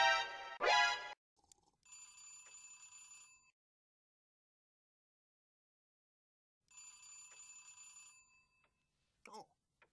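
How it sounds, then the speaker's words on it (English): A bright electric doorbell rings in two separate trilling bursts, each about one and a half seconds long and separated by silence, with short spoken voices at the start and the end. "there's someone at the door, Grommit."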